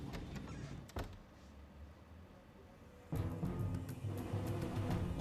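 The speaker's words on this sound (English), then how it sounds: "Next, they hear the sound of the lavatory door opening." An airliner lavatory door opens, captured on a cockpit recording. Steady background hum is broken by a brief click, then a louder shift as the door comes open and the cabin noise swells.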